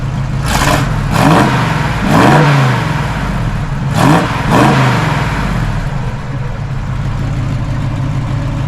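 A 1968 Chevrolet Camaro SS V8 is blipped several times from idle, each rev rising and falling in a deep loud roar before it settles back to a steady rumbling idle, close by.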